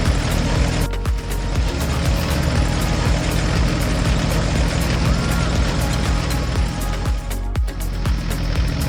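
A yellow tractor pulling a rake across a straw field runs with a steady, loud low engine drone and rattling machinery throughout, with two brief dips in the noise.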